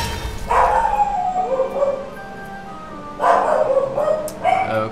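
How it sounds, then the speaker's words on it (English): Dogs bark in two clear bursts, first near the start and again near the end, loud and close with a quieter pause between. "Okay, the dogs are out tonight."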